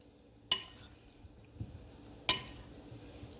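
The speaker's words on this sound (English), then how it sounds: "You're just gonna stir it up." Cooked potato, corn and broccoli stirred in a pan or foil pack, giving two sharp clinks of a utensil against the container with soft scraping between, fairly quiet and close, with no talking.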